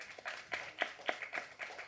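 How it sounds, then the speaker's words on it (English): Faint, scattered audience clapping in rhythmic bursts at a live documentary trailer launch event, rising and falling over a couple of seconds. "So, round of applause for Geeta."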